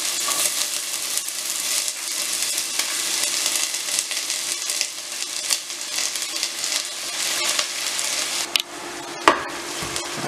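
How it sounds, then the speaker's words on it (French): Onions and ginger fry in hot oil in a saucepan, a loud, steady sizzle running throughout with occasional clinks and scrapes of stirring near the end, and no voices. "Ensuite, on va y mettre des oignons."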